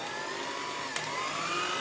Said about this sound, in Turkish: 2 dakika boyunca mikser ile yüksek devirde çırpacağım.